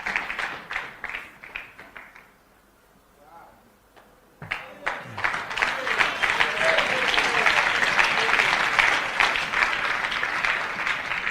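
Audience applause at a church preaching event in Pretoria, South Africa, clapping that fades, pauses briefly, then swells into sustained loud applause from a large crowd, with a voice speaking over parts of it.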